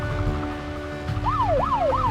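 A police car siren during a pursuit of a drunk driver: rising and falling wails start midway and repeat over a steady road and engine hum, with no voices.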